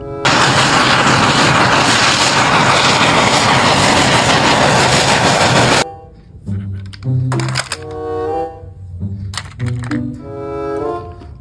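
A toy steam train makes a loud, steady rushing rumble like a train running along the track, then it cuts off to a few short whistle-like tones.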